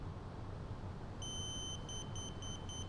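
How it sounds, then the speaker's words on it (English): Kincrome K8085 brake fluid tester beeping an alarm, a long tone followed by a run of rapid, evenly spaced beeps, faint over a steady background hum with no voices. "it's beeping at me pretty loud and it went red"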